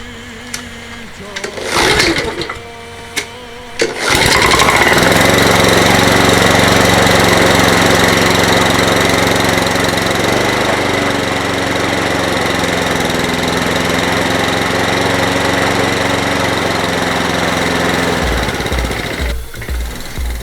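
Honda GCV 135 lawn mower engine running steadily and loudly for a long stretch after a few starting clatters, settling into a constant drone before cutting off near the end.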